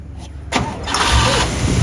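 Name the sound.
1956 Oldsmobile engine cranking and starting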